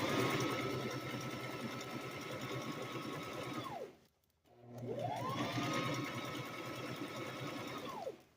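A sewing machine stitches diaper covers in two long steady whirring runs, motor pitch rising at each start and dropping at each stop, with a brief silent pause between them, close and even.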